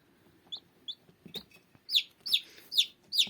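Young chicks peep in a series of high, sharp chirps, sparse at first and then louder and quicker, with faint rustling beneath.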